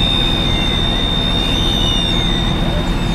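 A finisher brake on the trailer of an insulated asphalt-laying tipper truck whistles steadily as a thin high tone above a constant, loud low engine rumble that continues throughout.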